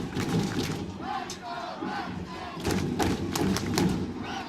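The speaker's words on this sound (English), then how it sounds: "Crowd chanting for the Redskins." A crowd at a 2A state championship high school football game chants and roars in a large outdoor stadium, with rhythmic thumping and cheering swelling in waves at a steady, fairly loud level.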